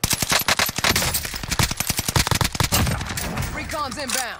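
Video-game gunfire in Warzone rattles out as dense, rapid automatic bursts, loud and close, before thinning into scattered shots. A voice talks briefly near the end.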